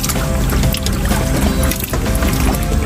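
Water is poured loudly and continuously while a container is refilled, a close, dense splashing rush with a brief dip near the end.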